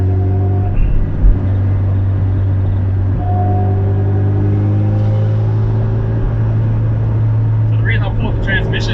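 Inside a moving Honda Civic, a steady low drivetrain drone with a grunting, spinning whine from a failing transmission runs continuously under the engine rumble, with faint voices or clicks near the end.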